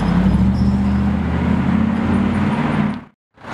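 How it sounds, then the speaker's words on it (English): A Chevrolet Corvette C8 rumbles past with a loud, steady engine drone that holds for about three seconds, cuts off abruptly, then starts to rise again. "C8 coming back for another pass"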